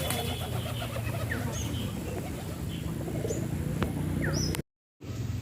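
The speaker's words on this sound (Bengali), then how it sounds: "অনেক দিন পর কবুতর ছেড়ে দিয়েছি তাই আনন্দে ওরা ঘোরাঘুরি করছে" Several released pigeons coo and flutter around an outdoor loft, with soft cooing and scattered chirps over steady background noise, then a brief dropout near the end.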